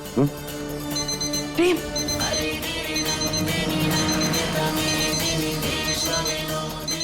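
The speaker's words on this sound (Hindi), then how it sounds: "ये आवाज हमारे फोन की है। ये हमारा अलार्म है" A bright electronic mobile phone alarm melody rings steadily and fairly loudly, with a voice speaking briefly in Hindi over it.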